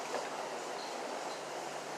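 A train in the video game Persona 3 Portable rumbles along with a steady, hissing wash of rail noise, quiet and unbroken, with no voices.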